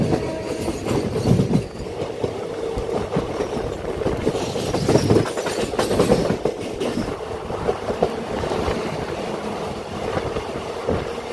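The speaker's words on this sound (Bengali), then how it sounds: "আমাদের ট্রেন ছেড়ে দিল দমদম জংশন স্টেশন থেকে" A train pulls out of Dum Dum Junction station, its steady rumble and clickety-clack of wheels over rail joints rolling on continuously at moderate level, with faint squeals mixed in.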